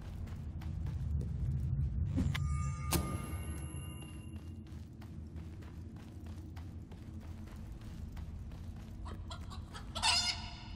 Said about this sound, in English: And the killer monsters are... chickens?